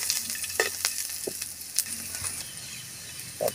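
Garlic sautéing in a hot pan for kangkong in oyster sauce with egg gives a steady, close sizzle, broken by a few sharp clinks of a utensil stirring against the pan.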